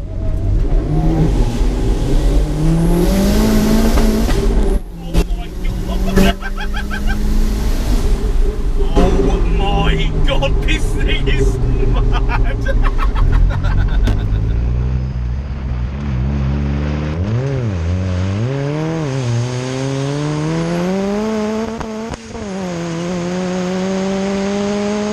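Turbocharged Zetec-swapped Ford Transit Connect van accelerating hard from inside the cab, engine note climbing through the gears with rising and falling pitch sweeps, loud and continuous throughout, with a voice briefly speaking over it.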